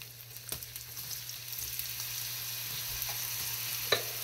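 Finely chopped onion drops into hot oil in a pan for beef kala bhuna, producing a steady, broad sizzle with a few soft clicks from the spoon and no talk.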